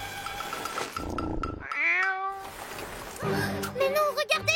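A cartoon cat meows in a clear, close, rising call, with a second longer wavering meow later, amid splashy effects and character voices speaking in French.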